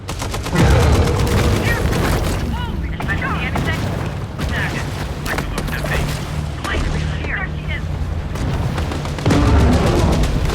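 Grenade explosions in the Maneater video game, with repeated booms and bursts of gunfire-like blasts at close range, loud and dense across the whole stretch while a voice talks over them.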